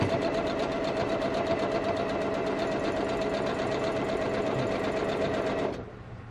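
A sewing machine quilting a restored quilt runs in a fast, even, continuous mechanical whir close by, then stops abruptly near the end.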